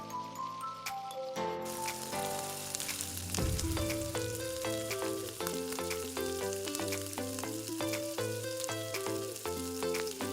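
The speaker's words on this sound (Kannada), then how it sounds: "ನೆಕ್ಸ್ಟು ಕ್ಯಾಪ್ಸಿಕಮ್ ಹಾಕ್ಕೋತಾ ಇದ್ದೀನಿ." Chopped capsicum is added to mushrooms in a hot pan, and a bright, steady sizzle and crackle of frying follows, close and continuous with a few stirring clatters and no talking.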